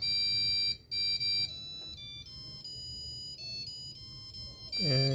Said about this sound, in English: if I press the button again, you can hear the American national anthem